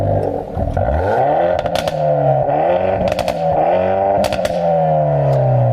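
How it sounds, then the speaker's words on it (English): A Hyundai i30N with a raucous sports exhaust and no soft limiter starts and is revved hard, several loud rising and falling engine sweeps with crackles and pops between them, close by. "Go on, start it up and rev it."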